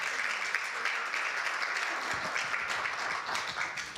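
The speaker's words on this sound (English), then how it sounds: "People are applauding because they know what that means" An audience applauding at an Easter church service, steady clapping from a crowd at moderate distance throughout.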